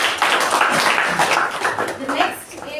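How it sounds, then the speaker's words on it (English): Applause from a crowd at a Toastmasters club meeting fills the room, a steady clatter of clapping hands that stays fairly loud throughout, with some voices mixed in. "Let's give him a huge round of applause."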